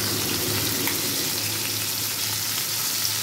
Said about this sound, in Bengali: মাছগুলোকে এপিট ওপিট করে লাল করে ভেজে তুলব।